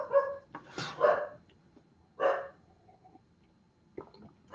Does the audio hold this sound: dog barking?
yes